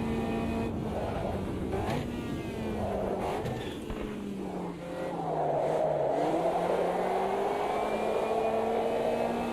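A race car in a sim racing game revs and accelerates through gears, its engine note rising and falling over several shifts, loud and continuous with a brief dip before climbing again.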